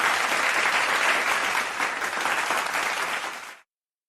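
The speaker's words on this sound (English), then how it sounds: "once again a round of applause for all of our speakers" A steady, loud round of audience applause for the speakers fills the room, many hands clapping densely before cutting off abruptly.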